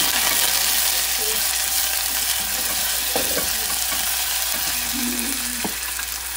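Onion fries in oil at the start of a seafood soup, a loud, continuous close-up sizzle with occasional light stirring scrapes and no talking.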